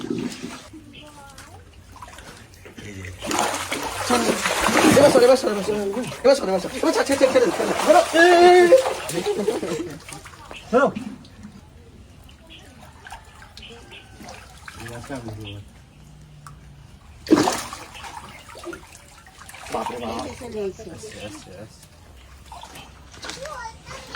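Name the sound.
live catfish splashing in water as they are caught by hand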